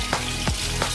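Chicken fries in hot oil with a dense, close sizzle and bubbling crackle for a brief moment, with no voices.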